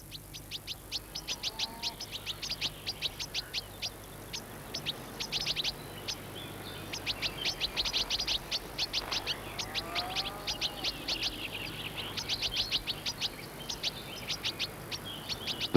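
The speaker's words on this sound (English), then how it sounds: "This time, it's goldfinches banqueting on the sudden harvest." Goldfinches feed on thistle seeds in an autumn meadow, giving a steady stream of bright, rapid twittering chirps close by for the whole stretch, with a low background rumble and no voices.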